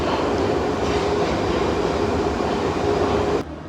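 A Prague metro train rides along with a loud, steady rumble and rolling rail noise from inside the carriage, then drops away abruptly near the end.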